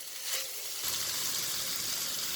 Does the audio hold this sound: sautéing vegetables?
yes